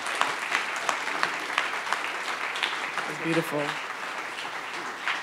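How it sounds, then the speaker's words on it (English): A panel audience at the 2020 Sundance Film Festival gives a steady round of applause throughout, with a person speaking briefly over it and a short melodic tone partway through. "can we give a big round of applause to Kahlil and Elissa?"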